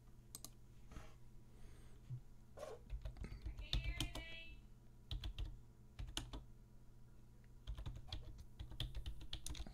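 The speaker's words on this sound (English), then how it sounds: "I was typing" Rapid, uneven clicking of a computer keyboard being typed on, close and fairly quiet, in bursts of keystrokes across the whole stretch with no voices.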